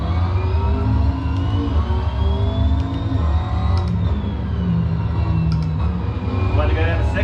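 A Lamborghini roars in a racing game, its engine droning steadily at high revs with a rising and falling pitch, loud and continuous throughout with no pauses.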